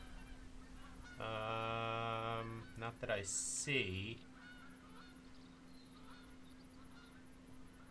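Geese honking in a hunting video game, a sustained nasal honk call followed by a few shorter goose calls, with someone talking quietly over the game audio.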